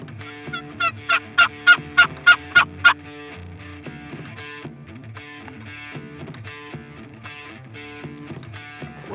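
Wild turkeys in Texas gobble in a rapid burst of seven loud, rattling calls close by, followed by quieter gobbles and clucking farther off.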